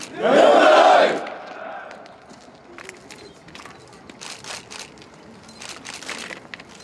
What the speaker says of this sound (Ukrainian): Герої не вмирають, вигукували з натовпу